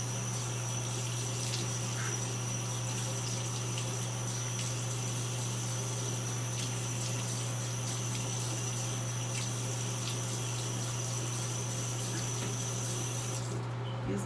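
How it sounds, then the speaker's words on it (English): Tap water runs steadily into a sink while a face is rinsed, a continuous close splashing wash with a low background hum throughout. "Give me a second to rinse."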